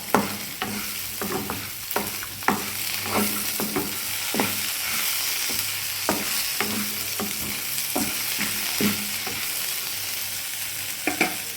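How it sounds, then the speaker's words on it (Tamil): Betel leaves lightly sautéed in a pan for a betel leaf chutney, giving a steady soft sizzle with repeated stirring scrapes and clicks at an irregular rhythm, close by with no talk. "இது ரொம்ப வதக்கக்கூடாது, ஜஸ்ட்டு போட்டுட்டு லைட்டாக வதக்கினாலே போதும்"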